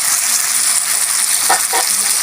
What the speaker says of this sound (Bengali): আর একটু ভাজবো টমাটমটা একদম গলে যাবে